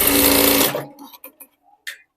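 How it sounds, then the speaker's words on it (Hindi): A sewing machine double-stitches the belt of a blouse, running in one loud close burst of rapid stitching for under a second before stopping, followed by a few soft handling clicks. "तो मैं बेल्ट में भी डबल सिलाई लगा रही हूँ।"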